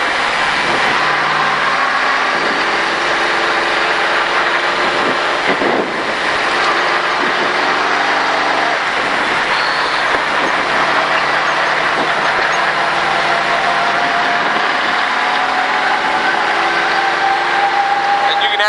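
A race car on the Texas Motor Speedway track, part of a Richard Petty Driving Experience, accelerates and shifts into second gear. The engine roars loudly and steadily throughout, and a gear change breaks the rising pitch partway through.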